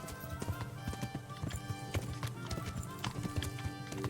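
Horse hooves in the medieval video game Kingdom Come: Deliverance clop in a steady, quick rhythm, close and clear over a low ambient background with a faint tonal game score.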